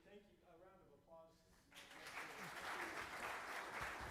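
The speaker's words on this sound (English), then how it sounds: "A round of applause" A workshop audience breaks into applause for a departing speaker, with a brief voice at the start before the dense clapping swells and continues to the end.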